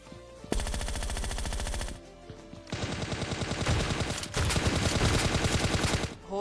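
Rapid automatic gunfire from the video game Scarfall, a sustained burst, a short lull, then two longer loud volleys close up, with no talking.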